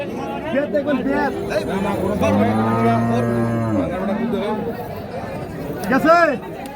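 At a cattle market in Chattogram, a cow lets out one long, loud moo in the middle of the clip. People talk nearby, and a crowd murmurs in the background.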